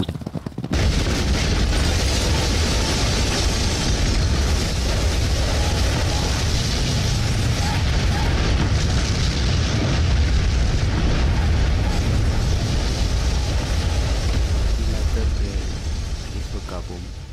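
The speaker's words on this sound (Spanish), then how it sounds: "La historia de la gran explosión de la torre aún se recordaba muchos años después del suceso." Massive tower explosion in a video game, a sudden loud blast followed by a long sustained roaring rumble that fills the whole stretch before easing slightly at the end.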